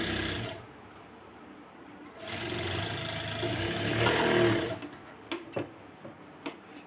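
A sewing machine runs in short bursts while stitching a seam on plazo pants, its motor whirring steadily for a few seconds before trailing off into quieter clicks and taps, close by with no talking.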